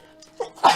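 A single short sneeze bursts out close and fairly loud at the very end, after a brief intake of breath.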